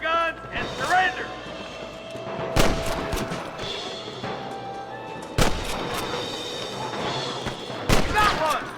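Gunfire in the Red Dead Redemption video game, with several loud sharp shots at irregular intervals over a busy bed of game sound and voices, plus a few quieter pops between them.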